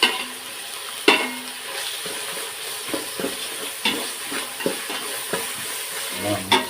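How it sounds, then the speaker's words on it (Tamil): Ginger and garlic sautéing in softened onions in a pan for Tamil-style quail biryani, with a steady close sizzle and frying hiss, punctuated by several sharp stirring scrapes and clinks of a spoon against the pan. "வதங்கின ஆனியனில் டேரெக்டாகவே இஞ்சி பூண்டை போட்டு வதக்கிக்குவோம்"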